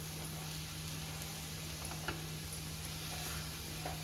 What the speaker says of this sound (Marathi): या मिश्रणाला स्लो गॅसवरच जरा परतून घ्यायचं आहे मिक्स करून